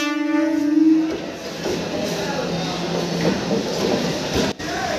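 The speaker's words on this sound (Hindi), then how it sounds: "Train is arriving at Chakiya railway station." A train arrives at Chakia railway station in India amid a loud, continuous rumble and platform din, with a long horn-like tone fading early on and steady mechanical roar throughout.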